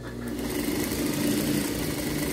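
Sewing machine stitching along a folded 6 cm fabric strip for a pet harness, a continuous fast mechanical whirr at close range with no pauses.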